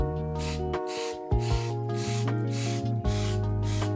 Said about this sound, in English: I'll spray some spray adhesive on the back of the template